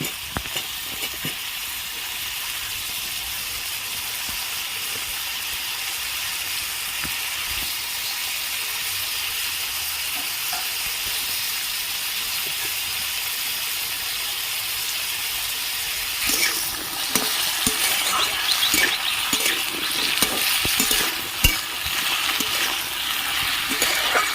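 Potatoes with green chillies fry in a pan until they turn reddish, giving a constant close sizzle that grows louder and more crackly partway through as they are stirred and tossed, with no talking.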